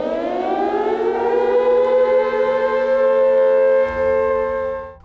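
An air raid siren wails loud and sustained, its pitch slowly rising and holding before it begins to wind down.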